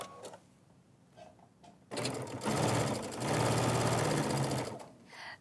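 A sewing machine stitches quilt binding at a mitered corner, quiet handling and clicks giving way to a loud, rapid, steady mechanical whirring burst that runs for about three seconds before slowing to a stop.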